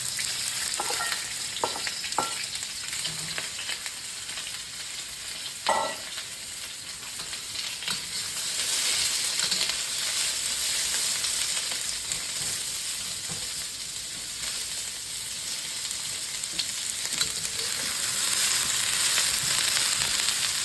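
Onions hit hot oil already flavoured with browning ginger in a wok, frying with a loud, continuous sizzle and hiss, broken early on by a few clanks of stirring and tossing that swells stronger toward the end.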